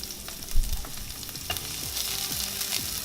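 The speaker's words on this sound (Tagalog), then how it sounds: "Karon ato nang gisahon ang karne, ahos, sibuyas, kamatis" Meat, garlic, onion and tomato sauté in a pan for an omelette, a close, crackling sizzle with scraping stirs and a dull knock near the start.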